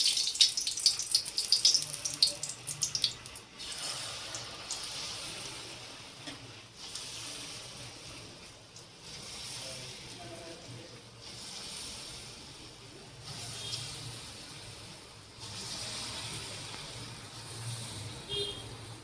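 Bengali palm fritters (taler bora) fry in hot oil with a continuous bubbling sizzle that swells and fades in waves, a louder crackling burst at the start, all close and without talk.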